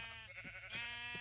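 A Minecraft sheep bleating, several short nasal baas in quick succession, clear and close against a quiet game background.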